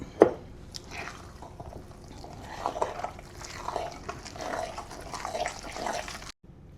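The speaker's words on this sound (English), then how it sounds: "I will add some of this date water and soften it up" Date water is poured into a stiff oat bran and date muffin mixture, giving a steady, close wet sloshing and squelching that runs nearly the whole time with no talking.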